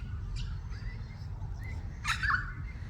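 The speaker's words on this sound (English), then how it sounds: "Then there's that bird again." A bird calls outdoors with a short chirp and then a brighter, louder warbling call near the end, heard over a low, steady rumble of background noise.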